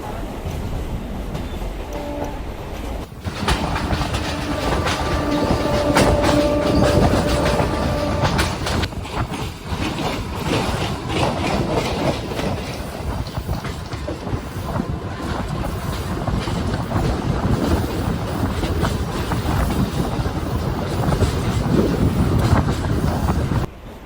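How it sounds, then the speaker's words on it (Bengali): A local train pulls into Kolkata station on the line from Sealdah, heard from on board as a loud, steady rumble of wheels and carriages mixed with rushing wind noise that continues without a break. "এই আমাদের ট্রেনটা ঢুকে গেল কলকাতা স্টেশনে"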